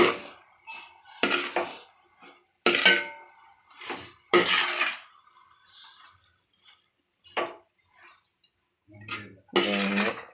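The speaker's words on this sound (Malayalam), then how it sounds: "നല്ലവണ്ണം ഒന്ന് ഇളക്കി ഒന്ന് യോജിപ്പിക്കാറുണ്ട്" A spoon stirs and mixes a Kerala-style dish in a metal pot, giving intermittent scraping clinks and knocks in short bursts separated by quiet pauses, close up with no talking.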